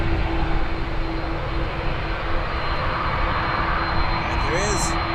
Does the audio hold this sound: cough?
no